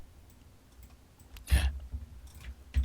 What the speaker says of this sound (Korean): Alt 키를 누르고 클릭을 하면 선택이 되겠습니다